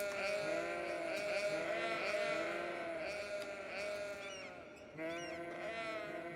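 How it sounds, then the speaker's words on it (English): Sheep in the city-building game Cities Skylines bleat repeatedly and loudly, overlapping calls rising and wavering in a continuous chorus with brief pauses. "Our sheep are talking to us."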